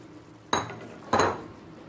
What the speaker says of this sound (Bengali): পনির আর পেঁয়াজ ক্যাপসিকাম একসাথে ভালো করে মিশিয়ে নেব